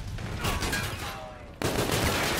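Gunfire in Call of Duty: Infinite Warfare, a loud rapid burst of automatic shots that breaks off, then resumes abruptly with dense firing.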